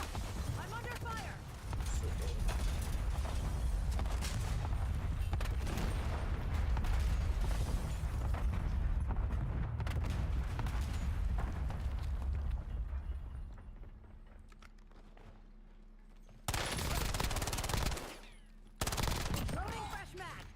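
Bursts of automatic gunfire in a Warzone / Battlefield 6 firefight, dense and rattling for several seconds, then a lull before a few more loud bursts at close range.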